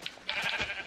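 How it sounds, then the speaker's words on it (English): A single short, quavering sheep bleat from Minecraft on the Xbox 360, lasting about a second, soft and heard on its own without speech. "I don't like to kill sheep either."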